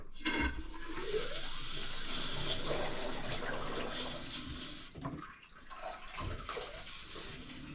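A plumbing supply line is bled during a toilet and faucet installation, and water rushes out loudly and continuously, with a brief dip before the flow resumes.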